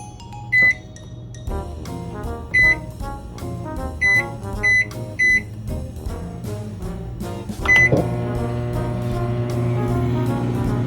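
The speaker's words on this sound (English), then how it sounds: "we're gonna thaw out the chicken in the microwave" A microwave oven running to thaw chicken, with a steady low hum throughout and several short, loud, high beeps scattered through the first eight seconds, then a fuller, louder drone toward the end.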